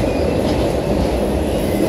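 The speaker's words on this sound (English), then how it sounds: "Unsure of what the CSX train is that just went by." A CSX freight train rumbles steadily past close by in Pittsburgh, Pennsylvania, a continuous heavy roll of wheels on rails with faint metallic ringing above it.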